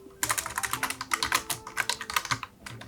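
Fast typing on a computer keyboard during font design work, a dense run of crisp close key clicks with brief irregular gaps, no voice over it.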